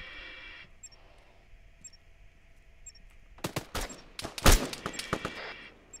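A burst of loud, rapid gunfire from an ArmA 3 firefight during a SWAT raid on Altis erupts after a quiet stretch of faint, ticking ambience, with several clustered shots, one especially heavy report, and more scattered shots after it.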